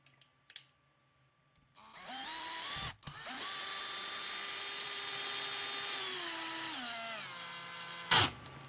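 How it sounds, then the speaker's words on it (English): A power drill drives a screw into a homemade wooden knife holder, whirring steadily for about five seconds with a pitch that sags slightly, bracketed by short clicks and handling knocks, close and alone. "Let's test it by screwing one of the screws."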